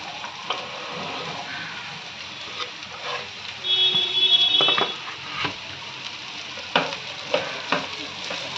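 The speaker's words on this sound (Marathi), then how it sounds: "आता ही कापलेली भेंडी त्याच्यामध्ये टाकते." Cut okra sizzling and frying with curry leaves in a pan over medium heat, a steady crackling hiss with occasional louder pops and stirring scrapes, no talking.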